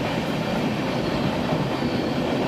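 A Mumbai local train rumbles past Ghatkopar station in a steady, loud roar of wheels and carriages, with faint clickety-clack and no pauses.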